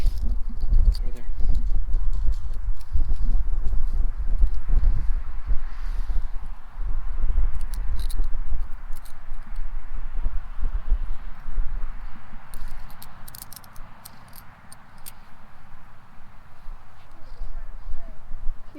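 A horse runs around outdoors near a horse fence, its hooves clip-clopping in an irregular patter under steady wind noise, with faint birds in the background.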